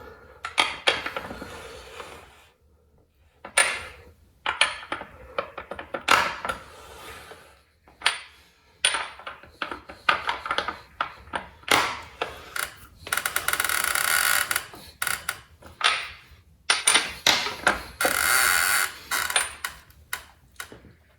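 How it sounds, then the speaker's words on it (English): A motorcycle axle nut on a 2013 Honda CBR1000RR is tightened with a ratchet wrench, giving bursts of close, sharp metallic clicking separated by short pauses, with no talking. "Now what I want to do is actually tighten up the axle nut"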